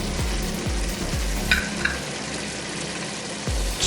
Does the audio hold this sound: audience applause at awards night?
no